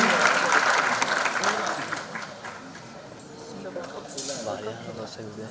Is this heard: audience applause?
yes